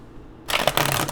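Tarot cards being shuffled: after a quiet moment, a sudden close burst of dense riffling card noise that runs to the end.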